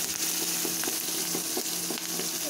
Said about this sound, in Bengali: তেল গরম হয়ে গেলে কিছু পরিমাণ পেঁয়াজ দিয়ে দিলাম, তারপরে মরিচ, তারপরে একটু নাড়া দিব